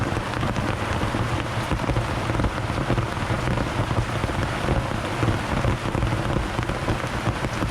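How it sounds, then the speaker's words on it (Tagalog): Heavy rain pours down continuously, a dense, steady roar of drops drumming on surfaces with no pauses. "sobrang lakas na ulan"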